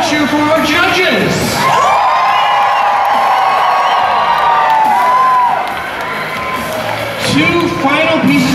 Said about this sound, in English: And one more cheer for our judges.